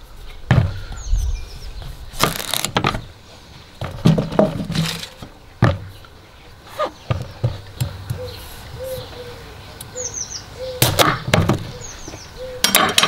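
Japanese Kotai knife chopping through a squash on a board, several sharp, close thuds and cracks at irregular intervals with quieter scraping between them, no talk.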